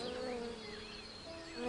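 A bee buzzes steadily and close, a continuous droning hum with wavering pitch that fills the whole moment without any speech.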